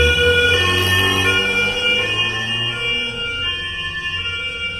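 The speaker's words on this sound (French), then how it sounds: "Bon bah ça y est, les ambulances sont parties." Wailing ambulance siren in Farming Simulator 19, steady and fairly close, sounding on its own with no talk over it.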